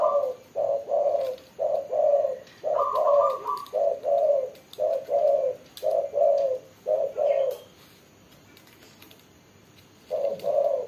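Spotted dove decoy birds coo repeatedly in a steady run of rhythmic phrases for about seven seconds, close and clear, pausing before another short burst of cooing begins.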